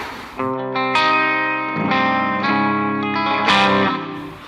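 Electric guitar through a straightforward distortion effect plays sustained, buzzy chords loud and close, changing chord every second or so with bright attacks and ringing tails.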